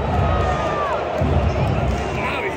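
Baseball crowd at Yankee Stadium reacting to a 2-0 count: a dense, continuous roar of boos and murmuring from a large crowd, loud and close, with voices mixed through.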